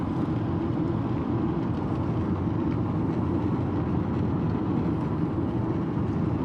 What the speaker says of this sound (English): we got the train crossing here